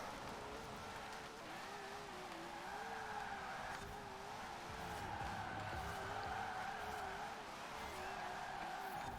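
A Nissan 240SX drift build in Forza Horizon 4 slides through a sustained drift, its engine droning and wavering steadily under a continuous tire squeal for several seconds, with no one speaking.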